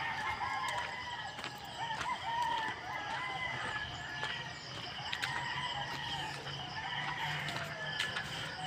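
Roosters crow repeatedly at a distance, with scattered hen clucks in between, over a steady outdoor background.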